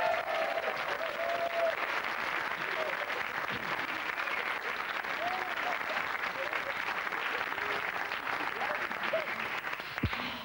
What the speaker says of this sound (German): Applaus für die Leute von der Bahn AG